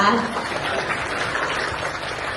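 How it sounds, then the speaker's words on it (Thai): At an energy industry event, a seated audience gives a brief round of applause, a diffuse, moderate wash of clapping heard under a voice. "ขออนุญาตขอเสียงปรบมือหน่อยได้ไหมคะ"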